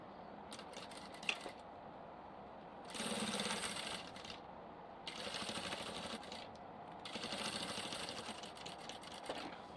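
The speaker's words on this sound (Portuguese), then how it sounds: "vou passar uma costurinha aqui bem na beiradinha do meu viés" A sewing machine stitches bias binding along the edge of crystal plastic for a diaper bag, running in several steady whirring bursts of a few seconds each with short pauses between, close and moderately quiet.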